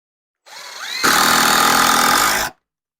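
Power drill whirring loudly up close as it drives a 2.5-inch screw into the clamped wooden frame of an outdoor bar stool, a short rising spin followed by a sustained buzzing burst that cuts off abruptly.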